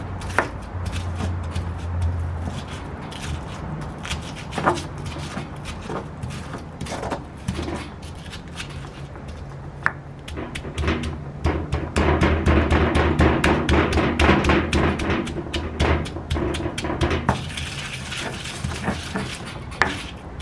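Garlic cloves and coarse salt are ground in a stone molcajete, with a steady run of gritty scrapes and sharp knocks of stone on stone that grow busier and louder partway through, with no talk.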